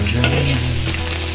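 Pork ribs fry in hot oil in a wok, a loud steady sizzle with crackling spatter and a low hum from the stove, close up and with no talk.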